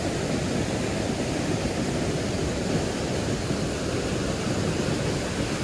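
Steady broadband rush of a waterfall in a primeval pine forest, a continuous dense roar of falling water heard from nearby with no voices over it.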